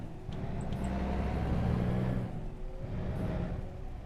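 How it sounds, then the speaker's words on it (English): A truck engine in American Truck Simulator rumbles up as it accelerates, a loud low drone swelling and easing off before building again, with faint ticking on top and no talking. "Let's go ahead and get this truck moving."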